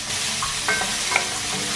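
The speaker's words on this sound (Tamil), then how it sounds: "மீடியம் ஹீட்டில் போட்டு வதங்க விடுங்க" Potatoes with salt sautéing in a pan over medium heat, a steady close sizzle with a few soft stirring scrapes, no talking.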